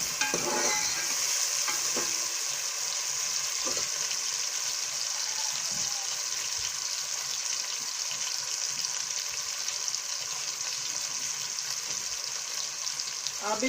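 Mixed vegetables and lemon frying in a pan for a sabzi, with a steady loud sizzle and occasional stirring scrapes throughout, alone without talk.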